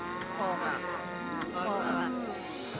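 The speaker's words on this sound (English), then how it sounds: "I wish these cows would stop so aggressively mooing." Cows in the Okami HD video game moo in a run of drawn-out, wavering calls, several overlapping lows following one another close and fairly loud.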